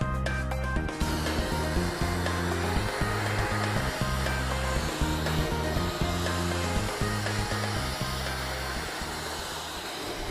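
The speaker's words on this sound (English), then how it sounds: "methodical blasting and overlapping vertical strokes allows the blaster to clear the substrate, resulting in white metal status" Abrasive blasting of steel to a white metal finish, a loud continuous roaring hiss with a pulsing machine drone underneath, close and unbroken throughout.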